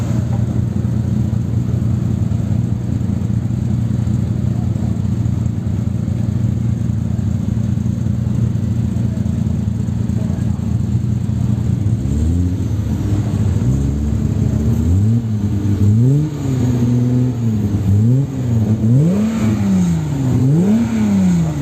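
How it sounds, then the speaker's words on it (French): A classic Alfa Romeo race car works around the Magny-Cours circuit, its engine droning steadily at first, then rising and falling in clear repeated revs as it accelerates and shifts, loud and close. "Vous entendez l'Alpha qui cause bien."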